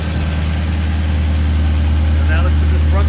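The engine of a 2009 Maserati GranTurismo runs after a belt replacement, a loud steady close idle hum with a constant low drone and faint chirping ticks near the end. No one speaks over it.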